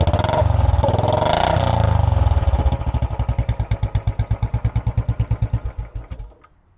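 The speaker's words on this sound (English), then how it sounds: "Let's hear a couple small revs." A 500cc single-cylinder 2018 Royal Enfield Classic 500 engine revs up loudly, then winds down into slow, distinct thumping pulses that fade and stop.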